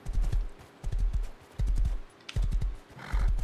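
A horse in the survival video game Rust trots with rhythmic clip-clop hoofbeats in close, loud clusters, broken by brief pauses.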